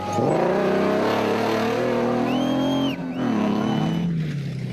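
A misfiring AIM Toyota production-class race car engine roars loudly in a desert race, revving high with a brief dip and stutter before pulling again, close and sustained.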